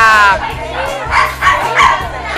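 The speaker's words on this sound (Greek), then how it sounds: "Άσχετα τώρα να ακούτε ορισμένα που καυγίζουν" Dogs bark and yip close by in a series of short, loud bursts, mixed with a whimpering tone and people talking in Greek at a breed gathering.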